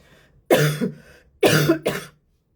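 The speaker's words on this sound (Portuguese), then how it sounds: "ainda estou com tosse" Two close, harsh coughs, the second a quick double burst, with silence between them.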